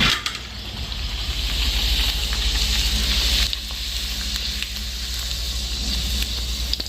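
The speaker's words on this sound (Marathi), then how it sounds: "पुरी तळते" Puri frying in hot oil, a loud, close, steady sizzle and crackle that dips briefly midway, then continues.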